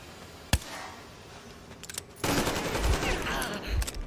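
Gunfire in a first-person shooter video game: a single sharp shot, then a few quick cracks and a sustained burst of loud, crackling fire with glass-like debris, aimed at shooting out a light.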